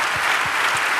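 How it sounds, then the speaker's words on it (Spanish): Church congregation applauding during a worship service, a brief burst of dense, continuous clapping with a few low thumps beneath, loud and close throughout. "Denle un aplauso al Señor."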